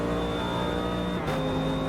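GT3 race car engine in Automobilista 2 holding a steady drone with a sustained whine, shifting pitch briefly near the end as it rolls on, loud and continuous with no talk.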